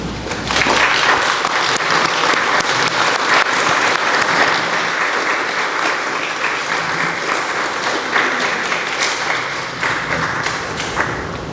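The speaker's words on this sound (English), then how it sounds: "maybe I should ask all the children to stand up, that we can all give them" An audience at a children's cancer event gives the children a sustained round of applause, dense and loud clapping that continues unbroken throughout.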